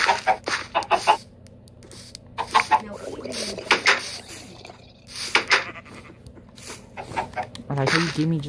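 Minecraft chickens clucking in short repeated bursts, fairly loud and close, heard among game sounds while people talk over it.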